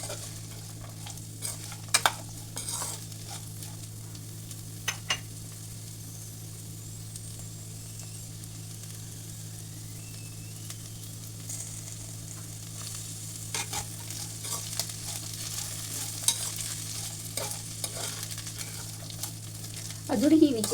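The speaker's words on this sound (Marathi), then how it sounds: "त्यानंतर आपण गाजर घालायचं आहे. अगदी 5 ते 6 मिनिटं आपण हे छानपैकी भाजून घेतोय." Upma premix and carrots being dry-roasted and stirred in a pan, with a quiet continuous sizzle and occasional soft scrapes and taps that grow louder toward the end.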